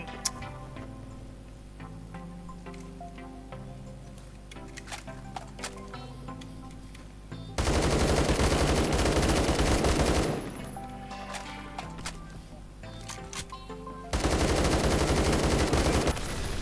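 AK-12 rifle fire in Roblox Phantom Forces: two loud sustained automatic bursts of several seconds each, over continuous background music with ticking percussive game sounds between them.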